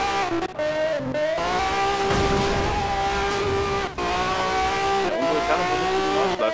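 A race car in the video game Need for Speed Shift 2 drones with a continuous engine whine, shifting pitch as it accelerates and brakes, with tire squeal through the corners and no pauses throughout.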